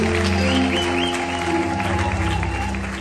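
A wedding crowd claps steadily, the dense applause mixing with sustained musical tones in the background.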